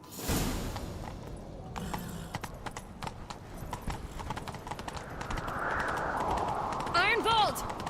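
Horse hooves gallop in a rapid clip-clop rhythm during a chase in The Witcher 3: Wild Hunt, close and steady, with a whinny near the end and people talking over the hoofbeats.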